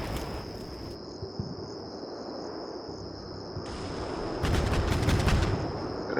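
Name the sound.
missile fire in the video game Combat Mission Black Sea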